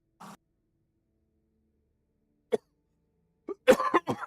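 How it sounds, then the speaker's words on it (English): Coughing in the video game Tainted Grail: a short cough, then a sharp one after a pause, followed by a burst of harsh, rapid coughs close to the listener. "I'm gonna die of coughing."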